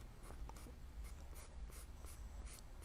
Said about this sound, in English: But right now I'm sketching